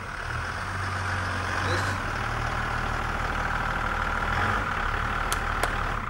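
A car engine idles nearby with a steady low clattering rumble that holds throughout. A voice speaks briefly over it.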